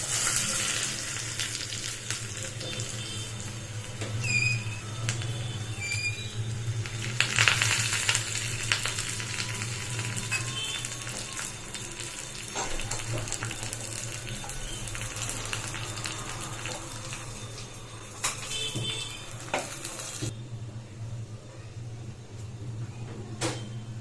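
Steady crackling sizzle of spices frying in hot oil for a sambar tempering, with occasional scraping and a few clinks, continuing throughout with no voices.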